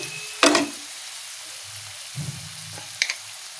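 Potatoes frying in a pan for a Bengali fish lunch as salt and turmeric go in: a sharp sizzling burst followed by quieter crackles and a couple of brief stirring scrapes, fairly close, with no talking.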